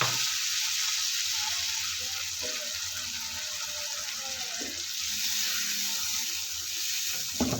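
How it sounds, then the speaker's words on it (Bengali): Water poured into a pan of sizzling fried masala, with a steady hiss and splash running continuously throughout at close range, no voices. "এখানে পরিমাণ মতন পানি দিয়ে দেবো।"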